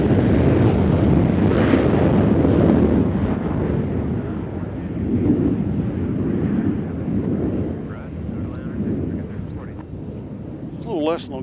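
An airliner lands on the center runway at Nashville International Airport after a flight from Dallas, heard as a loud, steady low jet rumble throughout, easing slightly near the end, with a voice talking over it.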